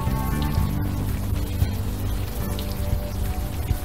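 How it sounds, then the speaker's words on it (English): Rain falling in the video game Unavowed, a dense, loud patter of drops on surfaces, continuous throughout over a low rumbling bed. "Still raining."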